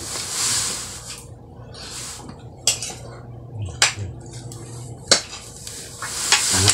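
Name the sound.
spoon scooping rice from a pot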